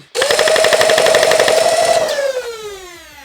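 A Nerf SMG blaster dumps its magazine in full auto, a rapid, even stream of dart shots over a loud whining motor that winds down in pitch once firing stops, close and loud.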